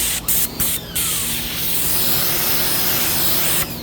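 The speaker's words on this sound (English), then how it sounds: "First, I'm just going to do a light spray of water" Short bursts of light water mist spritzed onto leather car seats in a Lexus LS430, three quick sprays near the start and another at the end over a steady hiss.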